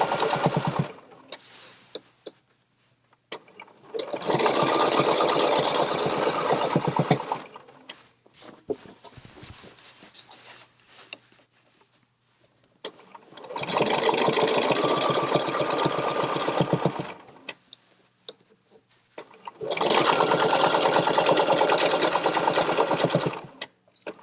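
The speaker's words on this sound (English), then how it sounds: "I'm basically just going to do dot to dot" A sewing machine quilting along a ruler runs in three long, steady, loud mechanical bursts, separated by quieter gaps with lighter handling noise.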